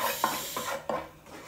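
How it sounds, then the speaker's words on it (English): Garlic softly sizzling in a frying pan, a gentle steady hiss broken by a few scraping stirs of a utensil. "you can hear it sizzling just a little bit"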